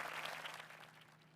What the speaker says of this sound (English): I seen only a handful of people clapping it up in VIP and Platinum